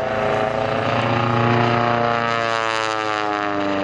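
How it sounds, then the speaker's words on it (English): A single-seat Pitts Special aerobatic biplane flies at the Oshkosh airshow, its engine a loud, steady droning hum that holds throughout, with no voices. "Single place Pitts special flown by Sammy Mason in the only color that Curtis Pitts ever approved of."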